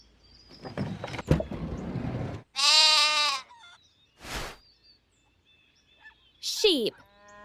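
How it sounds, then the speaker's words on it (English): A clear sheep bleat in a kids' animal video game rings out amid scattered bursts of other noise, including a rustle and a falling, squeaky cry near the end. "Sheep."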